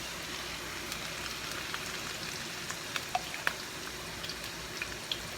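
Ginger and saag mustard greens frying in hot oil for sarson ka saag, giving a steady close sizzle with a few sharp pops and crackles and no talking.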